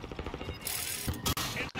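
Rapid video-game gunfire in Call of Duty Modern Warfare, aimed at a sentry gun during a team deathmatch gun game match, sounding as a dense burst of close shots with sharp cracks near the end.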